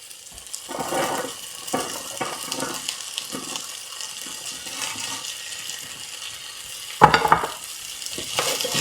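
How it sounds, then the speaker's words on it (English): Pumpkin stirred through risotto in a pan makes a soft, continuous sizzle with repeated wet scraping strokes and one louder clatter late on. "Pumpkin in there and stir that through"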